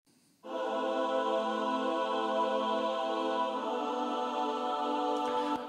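Sampled choir voices from East West and Native Instruments Kontakt libraries sing a sustained synthesized chord, entering abruptly and holding steady and loud with no other sounds.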